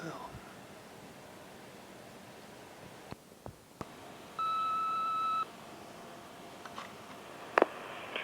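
A single long electronic beep from an answering machine sounds for about a second, clear against a quiet background, before a recorded message begins, with a few faint clicks and handling noises around it.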